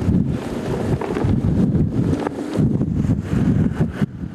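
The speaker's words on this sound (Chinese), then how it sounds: "风声咻咻叫" Strong wind at a Lukang lantern festival roars steadily with heavy buffeting against the microphone, loud and continuous with gusty surges and no talk.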